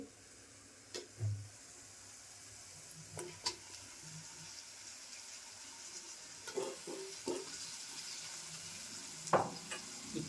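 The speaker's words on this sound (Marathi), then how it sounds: "आता मी बटाटे पण टाकून घेते पाण्यात ठेवलेले" Food sizzles quietly in a pan while a spoon stirs, with scattered soft clunks and scrapes as potato pieces, kept in water, tumble into the hot masala.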